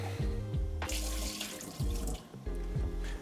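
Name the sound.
water running from kitchen tap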